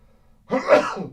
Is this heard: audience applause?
no